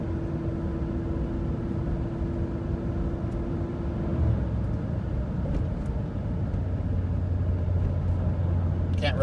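A car with a 4-speed automatic transmission accelerates from inside the cabin, giving a steady low engine rumble that drops in pitch partway through as a gear shifts, with no talking.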